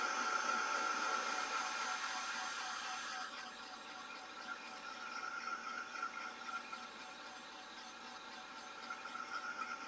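A heat tool blows a steady airy whir while heat-setting paint on a mixed-media holiday card. It is fairly faint and continuous, with a slight shift in tone partway through and no talking.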